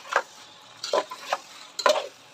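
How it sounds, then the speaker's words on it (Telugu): A spoon scrapes and stirs a chicken gravy curry over a high flame, four short scraping strokes at uneven intervals, close and fairly quiet, with no voices. "మంచిగా హై ఫ్లేమ్ పెట్టి ఒక రెండు నిమిషాలు ఇట్లా కలిపేసినాం అనుకోండి"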